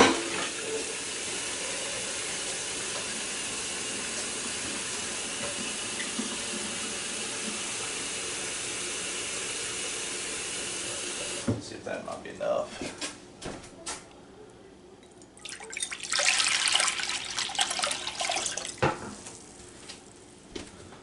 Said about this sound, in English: I'm gonna get us a jug of water.